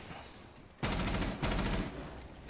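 Gunfire in Rainbow Six Siege video game: two loud close bursts of rapid automatic fire, each lasting about half a second, over quiet game ambience.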